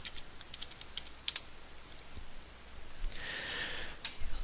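Keys tapped on a computer keyboard while typing a folder name, a quick run of light clicks, then a pause and a firmer press of the enter key, close and quiet with no talk.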